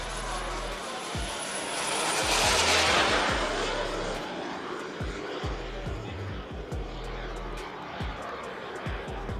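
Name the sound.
large fiberglass composite RC model aircraft flying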